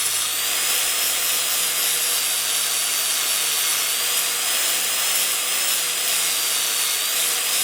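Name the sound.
shaving down a K20 oil pump housing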